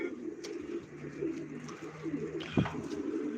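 Pigeons at a live pigeon auction give soft, low cooing throughout, with faint bird calls and a brief sharp knock or flutter near the end, moderately close.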